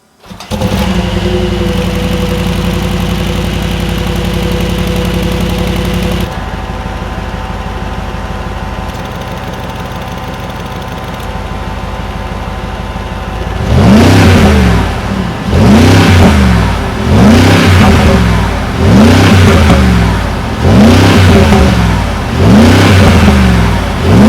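A Mercedes-AMG G63 V8 idles loudly with a steady drone, then settles lower before breaking into a series of about seven deep, rhythmic revs, each swelling and falling back, close and without speech.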